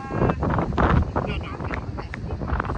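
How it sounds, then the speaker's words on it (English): Steady wind rushes and buffets a microphone outdoors at a peony farm, with people talking underneath throughout. "It's windy out."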